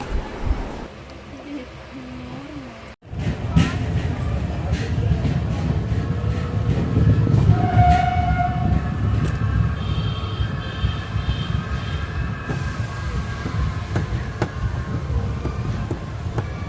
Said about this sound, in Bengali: ট্রেনটি সিগন্যালের জন্য মাঝে মাঝে স্লো হয়ে যাচ্ছিল।